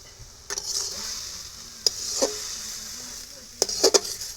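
Gourd leaves frying with shrimp in a pan crackle softly under a low sizzle while a spatula scrapes and taps against the metal in a few sharp, irregular strokes.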